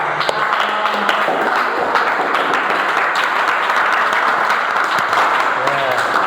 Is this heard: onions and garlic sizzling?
no